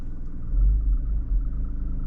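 A car engine holds at the clutch biting point as it strains to pull away, a low steady rumble that swells briefly and then settles, close and without talk.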